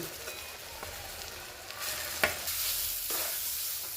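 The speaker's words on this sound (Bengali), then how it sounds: "এইভাবে আমরা নেড়ে নিচ্ছি" Yam and chana dal coated in spice paste being stirred and fried in a kadai, a steady close sizzle with scraping strokes from the spatula growing louder partway through.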